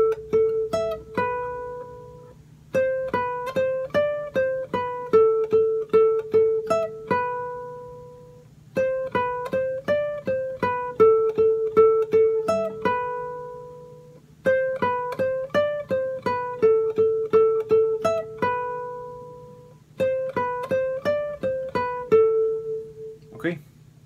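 Guitar plays the verse riff of a song, a repeating plucked melodic phrase over a steady low drone, cycling four times with short gaps between phrases and no talking.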